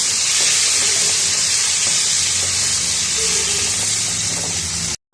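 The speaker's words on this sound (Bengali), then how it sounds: "চলো ফুলকপিটাকে ভেজে নিই" Cauliflower fries in hot oil for a cauliflower chicken dish, with a loud, steady sizzle and hiss that holds throughout, then cuts off abruptly at the end.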